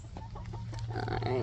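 Hens in a chicken coop cluck and murmur in short irregular bursts, fairly close, over a steady low electrical hum.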